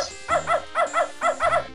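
A dog in the video game Beneath a Steel Sky barks in three quick pairs of sharp, loud, close woofs with brief pauses between them, and no talking.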